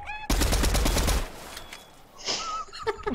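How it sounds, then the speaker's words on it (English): Gunfire in the video game Fortnite: a loud, rapid burst of automatic shots up close for about a second, then quieter scattered shots and game sounds trailing off. "there's people shooting over here too"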